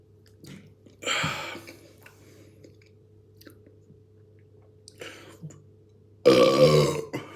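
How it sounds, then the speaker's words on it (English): Loud, raspy burps after drinking ale, two prominent ones separated by quiet stretches with small mouth clicks and smacking sounds, close to the listener. "I say it's not gassy, but I have burps"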